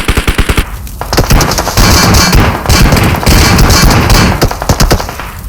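Rapid automatic gunfire in a shooter video game, loud close bursts of sharp shots in fast rhythmic strings, pausing and resuming with a dense roar between bursts.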